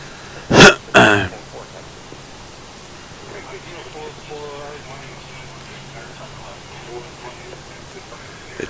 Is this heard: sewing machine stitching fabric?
no